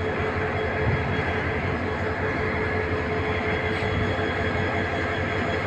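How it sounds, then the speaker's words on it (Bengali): Steady low rumble and broad hum on a long railway station platform at Kamalapur, Dhaka, with a train idling or moving nearby, continuous and fairly loud with no clear voices. "রেল স্টেশনের প্ল্যাটফর্ম।"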